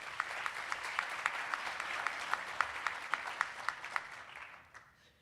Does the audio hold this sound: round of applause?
yes